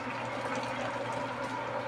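Water pours steadily into a pansit bato noodle pot, a soft continuous splashing rush that stays faint and even throughout.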